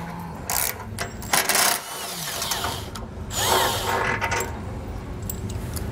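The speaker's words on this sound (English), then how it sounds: "They're gonna be 16 millimeter, so go ahead with your socket and take those out." Socket tool or ratchet taking out the 16 mm tow hook bolts on a 2021 Jeep Cherokee, heard as several short bursts of mechanical whirring and clicking over a steady garage background.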